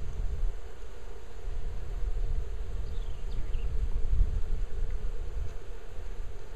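Honeybees buzz steadily throughout a spring hive inspection while a split is being made, a dense, continuous drone under faint wind noise with no voices.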